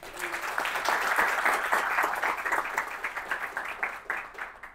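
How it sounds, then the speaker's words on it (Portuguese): Audience applause for a speaker at a WordCamp tech conference session, a burst of lively clapping that swells quickly and then gradually thins out over a few seconds. "Palmas para o Daniel."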